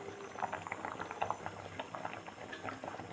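A village-style sweet of cow colostrum milk and rice bubbles in a pot with dense, quiet popping and gurgling, steady and close, with no voices.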